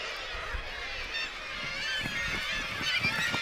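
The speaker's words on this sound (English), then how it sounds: "The black-legged kittiwakes are already nesting, while the guillemots are still arguing about the best spots on the cliff." Black-legged kittiwakes and guillemots call from a crowded seabird cliff on Helgoland, a dense chorus of harsh honking cries over a steady background, with short bursts growing toward the end.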